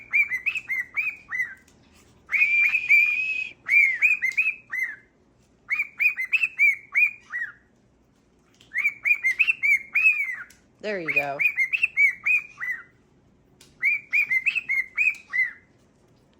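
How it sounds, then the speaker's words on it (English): Pet parrot whistling and chirping in repeated bright bursts of several seconds each, close and loud, separated by short pauses, with a brief spoken phrase in between. "Do your whistle, see if he'll copy you."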